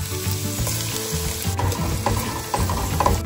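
Ginger garlic paste hits onions frying in oil, making a loud, close sizzle with bubbling crackles and occasional stirring scrapes throughout.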